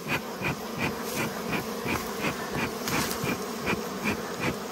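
A swarm of bees buzzing inside a cave during a honey harvest, with the continuous close drone pulsing in a steady rhythm and no voices.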